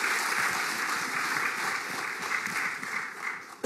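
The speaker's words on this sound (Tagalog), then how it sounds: "Isa pa nga pong palakpak kay Jesus" A church congregation applauds during a Filipino sermon, a dense, steady wash of many hands clapping that fills the space evenly for several seconds, with a brief sharp sound at the very end.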